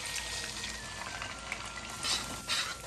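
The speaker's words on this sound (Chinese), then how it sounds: "蛋液下入锅中，用筷子不停地翻拌" Beaten egg poured into hot oil in a wok over low heat and stirred with chopsticks, a faint steady sizzle with light stirring swishes, close and quiet.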